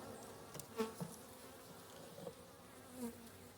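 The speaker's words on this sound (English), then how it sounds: "Actually a bunch of bees in the bottom box too." Honey bees buzzing inside the bottom box of a nuc hive, a faint steady drone with a few closer passing buzzes.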